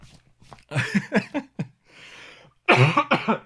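Several sharp, close coughs come in quick bursts, then a pause with a breathy exhale, followed by another harsh coughing fit.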